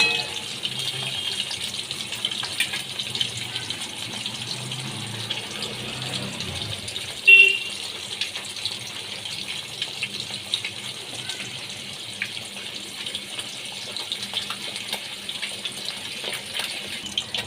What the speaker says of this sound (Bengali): মাছগুলো আমি লাল করে ভেজে নিচ্ছি